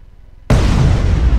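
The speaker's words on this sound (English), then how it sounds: "it impacted and exploded before, not actually damaging the ship at all" A rocket in Space Engineers strikes and explodes with a sudden loud boom after a short quiet pause, followed by a sustained roaring rumble that carries on to the end.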